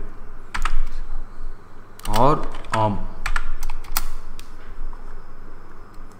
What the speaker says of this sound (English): So press enter on the keyboard